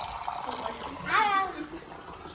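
Water pours briefly into a single small glass, the note rising as it fills, while children and adults chatter around it.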